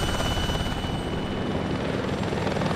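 A helicopter in a squad-based zombie video game thrums steadily and loudly throughout, its rotor drone continuous and close with no pauses.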